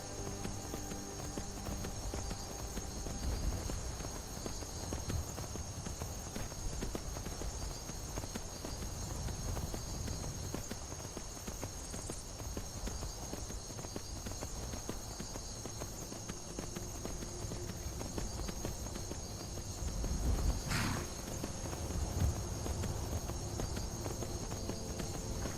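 A horse in Skyrim clip-clops along at a steady walking pace, its hoofbeats fairly soft over a constant ambient background.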